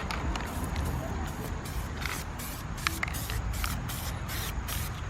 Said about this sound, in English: what you're gonna do is you're gonna spray your adhesive on it